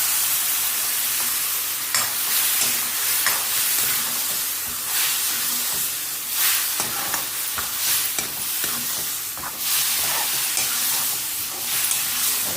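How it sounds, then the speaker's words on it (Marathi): Tomato masala stirring and frying in a pan, a continuous loud sizzle with repeated scraping strokes of the spoon, no voices present. "टोमॅटोचा कच्चा वास जायचा आणि छानपैकी भाजून घ्यायचं"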